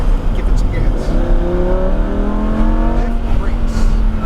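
A Lamborghini Huracán accelerates hard on a race track, its engine note climbing steadily in pitch under constant loud road and wind roar, close and continuous, with a driving instructor talking over it.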